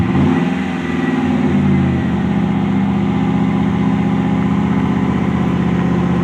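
A Chevy Silverado 1500 engine fitted with a Cherry Bomb Vortex muffler, a loud close rev that rises briefly and then settles into a steady, throaty idle rumble.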